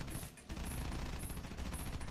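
Rapid bursts of gunfire in the PC game Frontlines: Fuel of War crackle almost nonstop, dense and loud, with brief high metallic pings repeating in the background.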